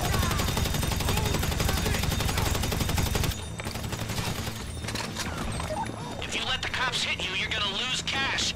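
Game gunfire during a heist in GTA V, with dense rapid shots and bursts loud over a rumbling backdrop, then thinner scattered fire as players talk excitedly over it.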